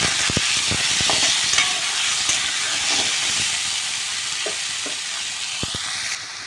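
Onion, tomato and ginger fry loudly in a pan, a dense continuous sizzle and steam hiss close by, broken by repeated clacks and scrapes of a spoon stirring.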